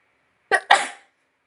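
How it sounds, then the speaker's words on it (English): A woman sneezes twice in quick succession, a short sharp intake burst followed immediately by a louder, fuller sneeze, close to the microphone in an otherwise quiet room. "I'm going to sneeze."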